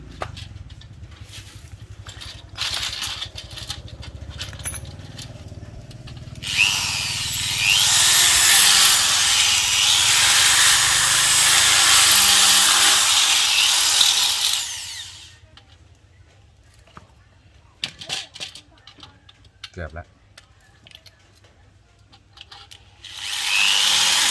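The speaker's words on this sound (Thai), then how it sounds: "เอาสว่านฟ้านเอาหน่อยหนึ่ง" An electric drill whirs loudly and steadily for several seconds boring a hole while repairing a rat trap cage, bracketed by quieter workshop clatter and handling noises before and after.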